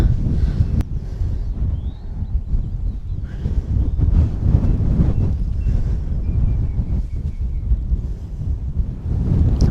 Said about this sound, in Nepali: शीतल हावा चले